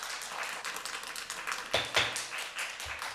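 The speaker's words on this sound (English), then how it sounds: "If you don't refrain from clapping" Audience members clap at a public plan commission meeting, a steady round of applause with a few louder claps near the end, moderately close and without speech.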